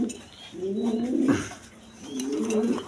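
Lahori Sirazi pigeons coo in two soft, rolling phrases close by, with a brief pause between them and no talk.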